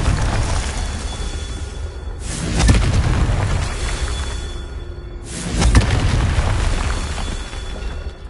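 Two loud, close booming blasts from the Confringo fire spell in the video game Hogwarts Legacy, each a sudden burst with a rumbling tail, spaced about three seconds apart over a constant game background.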